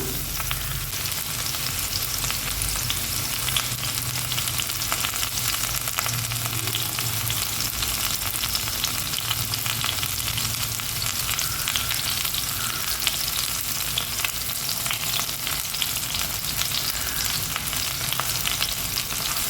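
Small onions and garlic fry in a pan with a dense, even sizzle that holds steady throughout, close and fairly loud, with faint stirring underneath and no speech.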